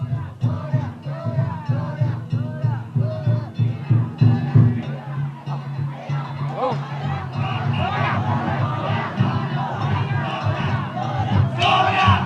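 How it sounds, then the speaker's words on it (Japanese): A big street crowd at the 1976 Kishiwada Danjiri Festival cheers and yells as the danjiri float runs through town, a dense roar of shouts and rhythmic chanting that builds steadily, with a voice speaking over it. "大通りから裏通り、歓声とともにだんじりは岸和田の町中を走り抜けていきます"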